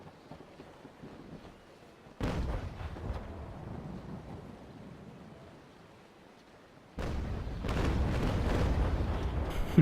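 Cannon fire from a naval brig in a sailing-battle video game: two separate heavy booms several seconds apart. Each one jumps sharply above a quiet windy, watery background, and the second leaves a longer rumbling roar.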